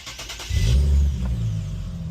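A tuned Renault Megane with a full tune and exhaust starts up, its engine catching into a deep, loud rumble that settles into a steady idle, with a short rev at the start and no voices.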